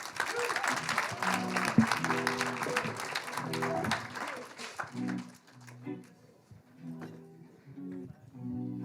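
Festival audience applause, a fairly loud wash of clapping over the first five seconds mixed with music, then thinning into scattered claps as music and voices continue.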